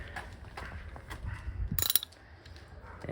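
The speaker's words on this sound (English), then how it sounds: "And then you grab your 14mm socket and wrench." A 14mm socket wrench ratchets on a shock absorber bolt of a 1981 Toyota Celica, giving a short run of close clicking turns that builds to a brief louder burst and then quiets.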